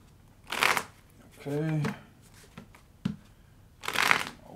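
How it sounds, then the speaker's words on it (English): Two bursts of tarot card shuffling, a quick riffle then another near the end, with a single spoken word and a tonal hum between them. "Let's get two more shuffles."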